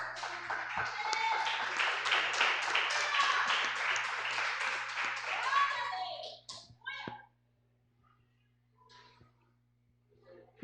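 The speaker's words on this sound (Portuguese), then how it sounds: "dê uma salva de palmas para o Senhor" A church congregation claps together during a worship service, a dense steady applause lasting about six seconds before quickly dying away into near silence with a few scattered stray claps.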